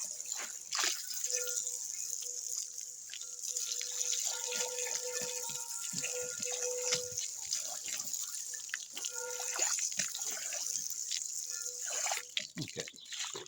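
Tap water runs steadily while a frying pan is washed in a kitchen sink, a continuous close hiss with scattered clinks and splashes and faint tonal ringing throughout.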